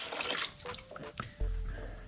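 Used coolant from a Honda Fury motorcycle pours out in a thin, splashing trickle with scattered drips, close and fairly quiet, heard alone without talk.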